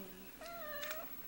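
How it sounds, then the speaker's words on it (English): A pet cat gives one drawn-out meow with clear rising-then-steady pitch, fairly close and moderately loud, after a short murmur of a voice and over a soft room hiss. "Pretty kitty."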